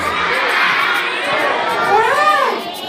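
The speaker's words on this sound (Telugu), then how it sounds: "బనానా క్లాప్స్ అంట." A group of children at a church children's program shouts a loud, close banana-claps cheer together, excited voices mixing with clapping and chatter throughout.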